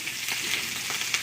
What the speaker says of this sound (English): I'm just gonna be frying up a couple pieces of my chicken at a time